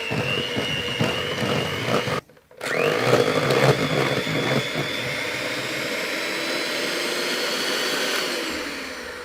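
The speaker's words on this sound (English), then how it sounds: "I left the machine on and I just lifted it up very slowly out of the mix" An electric mixer whirs loudly through cheesecake batter, cutting out briefly, then running on as a steady, slightly fading drone as the beaters are lifted slowly from the mix.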